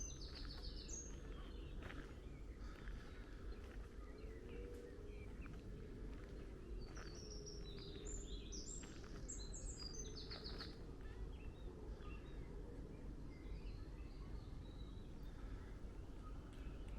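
Small birds tweet and chirp in short, faint bursts at a distance on a walk by Flint Castle in North Wales, over a low steady outdoor hum.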